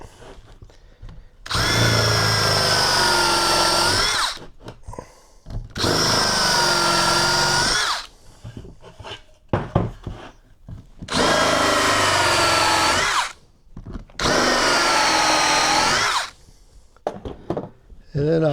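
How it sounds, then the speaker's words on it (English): A power drill reams out holes in wood in four sustained bursts of a few seconds each, with short pauses and clattering handling noise between them. "just for aesthetics, I'm going to ream these holes out"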